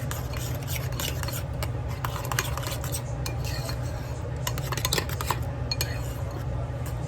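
A spoon stirs a small batch of mayonnaise mixture in a bowl, with steady close scraping and clinking against the bowl over a constant low background hum.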